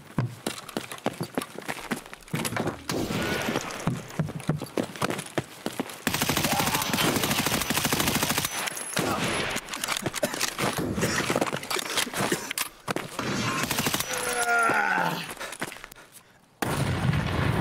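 Dense, sustained gunfire in a multiplayer shooter, with loud overlapping bursts and rapid fire running nearly continuously and brief pauses between volleys.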